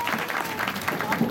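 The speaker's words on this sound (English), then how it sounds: "the real round of applause goes to our helpful volunteer today" A crowd at an outdoor bird show at a safari park claps briefly for a volunteer, a short burst of applause mixed with talking.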